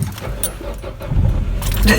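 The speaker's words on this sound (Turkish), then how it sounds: "Birazdan arabayı çalıştıracağım inşallah." Keys jangle as a key is turned in a car ignition, followed by the engine cranking and catching into a steady idle, loud and close.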